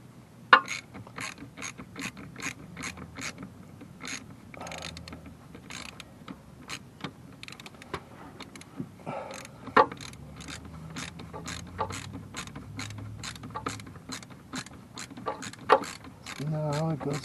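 An expansion valve fitting on a Volkswagen Rabbit air-conditioning system is turned in with a ratchet, producing a long series of quick, close clicking strokes with faint background noise.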